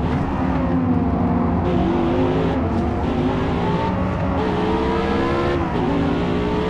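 Race car engine in the video game Forza Motorsport, loud and continuous, with rising and falling revs through gear shifts and an occasional tire squeal.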